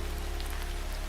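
Steady, dense rain pours down on a surface, a continuous even patter and hiss with no voice over it.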